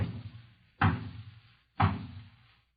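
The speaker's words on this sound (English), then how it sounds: "There was a knock at the door." Two heavy knocks land on a door, each a loud, sharp thud with a short ringing tail, spaced about a second apart after a fading earlier impact.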